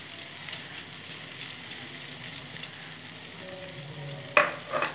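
Eggplant with mustard paste is stirred in a pan, giving a soft, low sizzle with faint scraping strokes, close but quiet, and a brief sharper clatter near the end.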